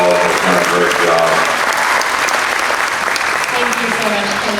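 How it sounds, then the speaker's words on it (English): Audience applause for the show staff at the closing of the 2021 ABGA Nationals goat show, dense, loud, sustained clapping throughout with voices speaking over it. "Give them a round of applause."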